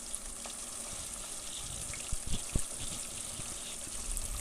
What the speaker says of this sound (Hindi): दूसरी तरफ मैं फ़िश फ्राई कर लूँगी और इसको सरसों का ऑयल लिया है, उसको अच्छी तरह गर्म करके उसमें फ्राई कर लूँगी